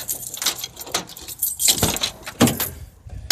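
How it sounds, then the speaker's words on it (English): Metal keys jangle and scrape as a key is worked into the door lock of an old truck: a close series of irregular clinks and rattles, with no talking. "let's see if we can get a key in this thing. Get it unlocked here."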